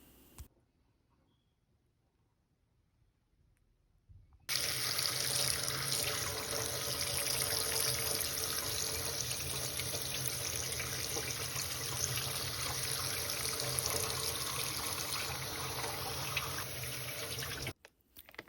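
Tap water runs steadily into a sink as food is rinsed, a loud continuous gush that starts abruptly after a few quiet seconds and cuts off near the end.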